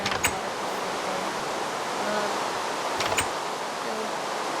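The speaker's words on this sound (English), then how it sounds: "There's a nice little sound waterfall right there." A small waterfall gives off a steady, fairly soft broadband rush of falling water, constant throughout, broken by a couple of brief knocks near the start and again a few seconds later.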